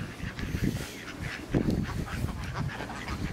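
Two geese squawking together in tandem, their honking calls overlapping in a steady back-and-forth, fairly faint against a breezy outdoor background.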